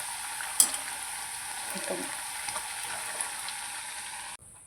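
Sago fritters made with crushed peanuts fry in oil, a soft continuous sizzle with a brief clink near the start and light stirring, before cutting off abruptly near the end.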